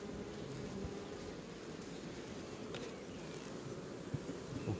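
Honeybees buzz at an open hive in a low, steady, fairly quiet drone that carries through the whole stretch, with a couple of faint knocks near the end.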